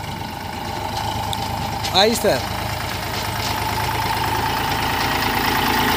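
A Sonalika 60 RX tractor's diesel engine runs steadily, a loud continuous mid-low drone that swells slightly toward the end, with a brief voice speaking over it.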